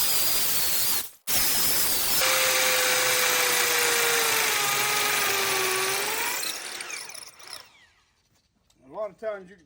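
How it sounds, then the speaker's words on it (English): A loud, steady power drill bores into concrete, whining and grinding for several seconds with a rising squeal, then winds down and stops before a brief voice. "It'll drill through them, but you have to give it a minute."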